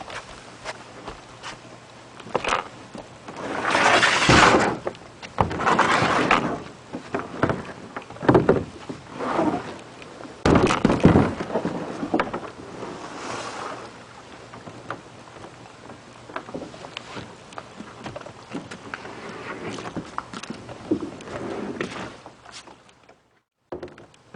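Bumps, scrapes and splashes as a kayak is slid off a floating dock into water, irregular knocks and sloshing with quieter pauses between.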